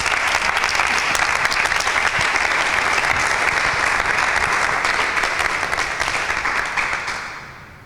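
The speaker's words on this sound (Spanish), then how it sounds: "David, fuertes aplausos" Loud, dense applause from an audience at a Bible quiz contest, steady clapping for about seven seconds before fading out at the end.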